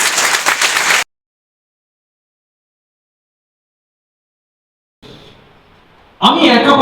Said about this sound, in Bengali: একটা বড় হাততালি হবে মাই ফ্রেন্ডস